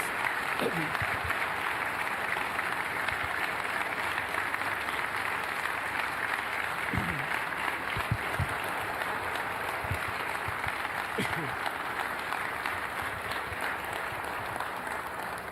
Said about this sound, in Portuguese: Vamos aplaudir a Jesus pela vida dessas pessoas.